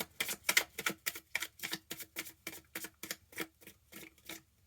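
Tarot cards are shuffled by hand at close range, a quick run of about fifteen crisp, evenly spaced riffling snaps, each a short papery burst with quiet gaps between.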